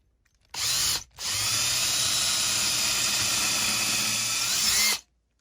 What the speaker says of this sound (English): I'm going to drill a little hole here, a little pilot hole.